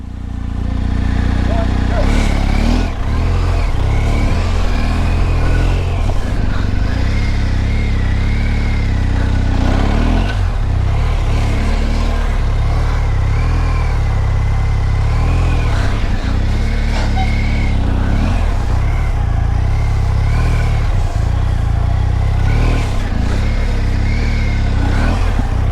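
Motorcycle accelerating hard on cold tires during a timed ride, the engine revving and shifting in a steady loud drone with rising pitch sweeps, close by, while a rider talks over it throughout.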